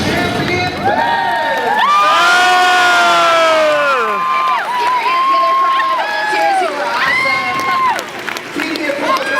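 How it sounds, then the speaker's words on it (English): A live game-show audience cheers, whoops and applauds loudly and continuously, with children shouting and a host's voice amplified over the crowd. "Keep the applause going for Greg."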